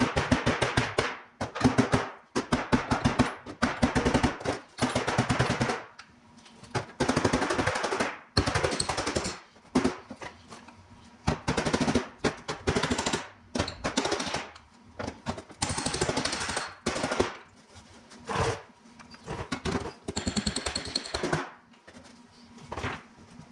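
Steel hammer striking a buckled car body panel held against a hand dolly to work out a low spot, loud sharp metallic blows in rapid bursts and irregular runs, close and alone.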